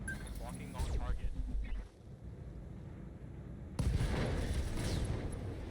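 A mech's ammunition cooks off during a Battletech video game battle: weapon fire and rumbling blasts ring out, fading for a moment before a loud new burst of explosive noise hits and carries through to the end.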